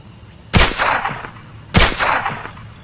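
Sniper rifle in the video game LONEWOLF firing at cans, two loud sharp shots about a second apart, each followed by a booming echoing tail, no talk.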